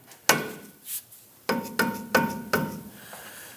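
A mallet taps a front lower control arm into place on a 1997-2006 Jeep Wrangler, five sharp close knocks: one, then a pause, then four in quicker succession.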